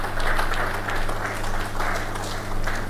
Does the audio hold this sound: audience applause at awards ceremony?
yes